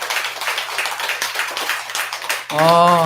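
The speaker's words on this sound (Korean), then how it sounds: "제 말에 동의하시면 크게 한번 박수 한번 부탁드리겠습니다" Worshippers at a Buddhist temple service clap together for about two and a half seconds, a busy ripple of many hands under a bit of talk, before a voice cuts in and the clapping stops.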